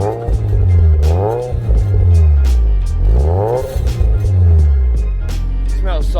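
A Nissan Silvia S15, sitting abandoned for four years, runs and revs close by, a loud engine rising and falling in repeated blips, with a voice talking over it.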